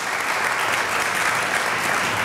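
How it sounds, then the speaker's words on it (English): A luncheon audience gives a round of applause, a brief, dense burst of many hands clapping at fairly loud, close level, sustained evenly with no voices over it. "let's give her a round of applause"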